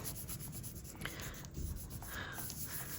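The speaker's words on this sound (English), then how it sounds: "I'm going to make sure I rub very well around the edges of the manila folder pieces" Paper being rubbed by hand over cut manila folder stencil pieces for a layered print, giving a steady soft scratchy friction that runs continuously and fairly quietly with no talking.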